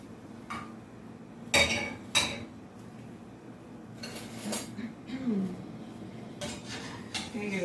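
Potatoes are stirred in a metal cooking pot, with a utensil scraping and clanking against the sides in irregular bursts, a few sharper knocks standing out, alongside quiet background noise and no talking.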